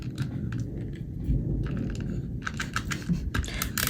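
A handheld tape runner pressed onto a paper card, giving soft clicky ticks and short scratchy rasps in scattered bursts, close and fairly quiet.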